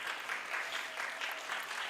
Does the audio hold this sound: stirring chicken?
no